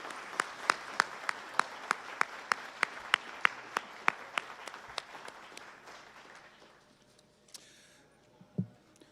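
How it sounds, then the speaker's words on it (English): Applause for the planning committee at a Memorial Day parade and remembrance ceremony in Dearborn: steady, evenly spaced claps ring out near and clear, then thin out and fade over the last few seconds. "Let's please offer everyone a round of applause."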